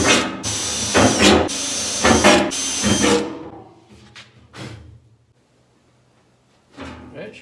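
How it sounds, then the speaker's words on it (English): Power drill boring holes into a Jeep CJ gas tank: several loud, harsh whining bursts in quick succession, followed by quieter clatter and near-silence, then one more short burst at the end. "I've got to mark all these holes and drill them out"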